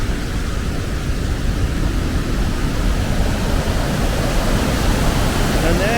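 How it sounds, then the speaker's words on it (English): Kakabeka Falls in Ontario pours in a steady, loud, broadband roar of rushing water that stays unbroken throughout, heard close from the walkway. "And there's Kakabeka Falls."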